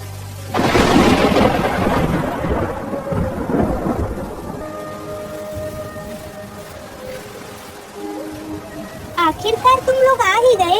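A loud crack of thunder opens into steady rain, with rumbling fading under the downpour, while voices and music-like tones rise near the end.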